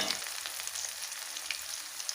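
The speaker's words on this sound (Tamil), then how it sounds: "வரமிளகா போட்டு நல்லா இப்படி வணக்கி விடுங்க." Dried red chillies sizzle steadily in hot oil while being sautéed for a hotel-style duck curry, a close, continuous frying crackle with light stirring and no talk.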